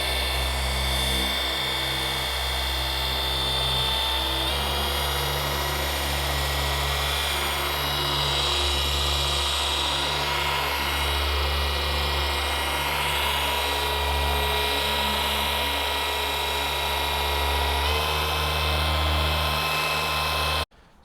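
A Milwaukee M18 Fuel cordless random orbital polisher running on a car hood, a loud continuous high-pitched whine with a steady motor drone that holds throughout and cuts off abruptly at the very end.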